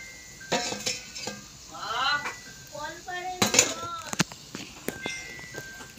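A lid clatters onto a metal cooking pot amid clinks of utensils and pans on a home stove, short bright rattles and knocks spread across a few seconds, close by, with occasional background tones.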